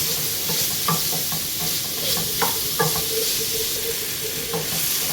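Apples, dates and raisins sauté in ghee in a pan with a constant bright sizzle, while a spoon stirs through them with a series of soft knocks and scrapes.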